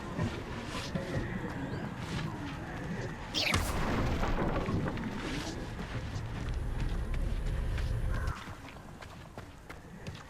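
A Confringo blasting spell from Hogwarts Legacy bursts into a loud, sustained roaring blast with crumbling debris rumbling for several seconds before dropping back to a busy background.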